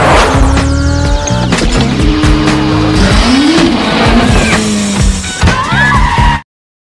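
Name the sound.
car speeding and turning through narrow streets in a chase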